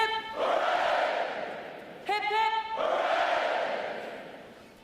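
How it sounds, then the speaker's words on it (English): Graduating Navy sailors at a boot camp graduation shout three loud, massed cheers in unison, each a sustained roar from a large crowd of voices with a brief gap between. "The adjutant will lead all graduating divisions in 3 cheers for this morning's award recipients."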